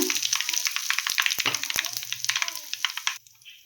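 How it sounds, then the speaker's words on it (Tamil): Mustard seeds and asafoetida sizzle and pop in hot oil, with dense close crackling and sharp spits, and a spoon clinks against the pan before the frying fades at the end. "கடுகு பொரிஞ்சிருச்சு பெருங்காயம் சேர்த்துக்கலாம்"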